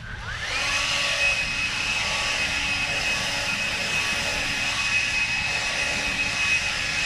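TORO 60V cordless leaf blower in turbo mode, blasting close and loud with a steady high-pitched whine and airy roar that ramps up at the start and holds evenly throughout.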